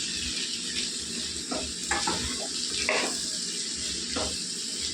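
Salt and turmeric being stirred into a cucumber and brinjal curry in a pan, a steady soft sizzle with a few light scrapes of the spoon against the pan, close and fairly quiet, with no talk.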